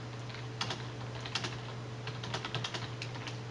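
Typing on a computer keyboard during a demonstration of an online course site, with irregular bursts of close key clicks over a steady low electrical hum and no talk.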